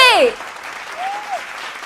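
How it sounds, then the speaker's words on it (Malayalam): An audience at a beauty pageant grand finale in a Kochi mall claps. A brief voice opens, followed by a faint, diffuse patter of applause in the background. "ഒരു ഉഷാറായിട്ടുള്ള ഒരു കയ്യടി കേൾക്കാമോ?"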